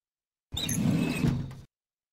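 A desk drawer pulled open in the adventure game Under a Killing Moon: one sliding, rumbling scrape lasting about a second, close up with no talk, starting and stopping sharply against silence.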